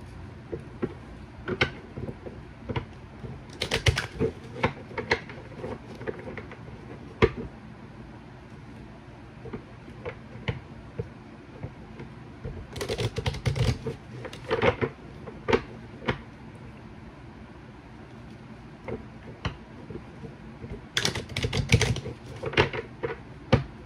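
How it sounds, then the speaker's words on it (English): A Kipper deck of tarot cards is mixed and shuffled by hand, giving a run of quick papery riffles and taps in irregular bursts, fairly close and moderately loud, with no talking. "I'm gonna mix this deck up 3 times"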